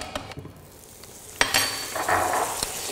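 Butter sizzles in a hot pan, a bright steady frying hiss that swells after a sharp clink of utensils, with a few softer clatters beforehand.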